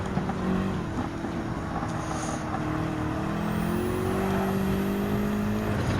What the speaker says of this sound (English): Just me, the BMW M6 GT3 Endurance Model, and the track itself